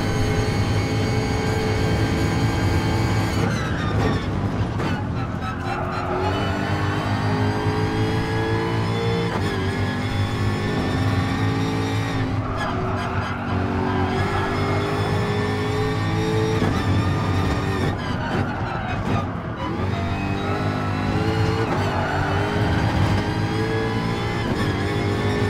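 A powerful car engine roars through a racing video game, holding a steady drone with repeated surges as it revs and shifts, loud and continuous throughout.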